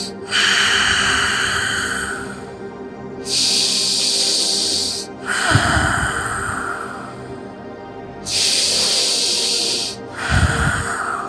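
Slow, deep breaths during a yoga posture alternate between long hissy inhales and exhales, about four cycles, loud and close with no talk.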